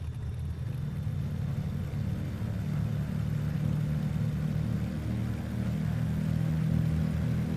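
Cessna 337H Skymaster twin piston engines held at 1800 RPM for a run-up in Flight Simulator X, a steady, loud, low droning hum that stays even throughout with no talking.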